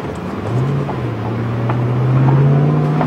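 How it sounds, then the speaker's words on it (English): A 435-horsepower Ford Mustang's engine and exhaust heard from inside the cabin with the windows down, a deep steady drone that climbs gradually in pitch and loudness as the car accelerates, with rushing wind noise over it. "I just wanted to at least demonstrate a little bit of the in-car sound when you got the windows down"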